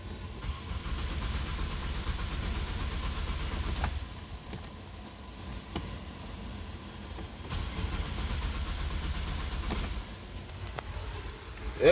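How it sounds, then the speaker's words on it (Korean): A Renault Samsung SM6 car engine is cranking without starting after an airbag deployment, giving a low, rumbling starter churn in two long bursts with a pause between, moderately loud and close. "SM6 크랭킹 영상."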